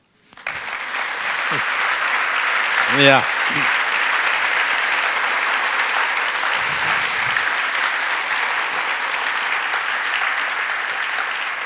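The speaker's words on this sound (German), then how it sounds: "Jetzt will ich einen Applaus" A large audience at a lecture dialogue event bursts into sustained, loud applause that continues steadily throughout, with a brief voice and a whoop near the start.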